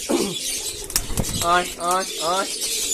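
Pigeons in a loft in the morning, close soft cooing calls in short rolling bursts with a brief flutter of wings, a person talking over them.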